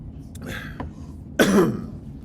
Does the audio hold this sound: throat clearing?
yes